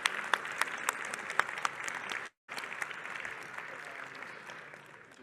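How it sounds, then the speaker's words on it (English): A small audience at a tech livestream event claps steadily, with a brief cut to silence partway through before the clapping resumes at a moderate level. "So huge round of applause to all of you for being here."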